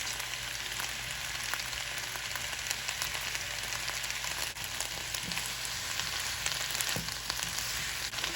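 Diced onion, red pepper and a teaspoon of garlic paste sizzle steadily in a skillet, a constant soft crackle and hiss with faint stirring clicks and no talking.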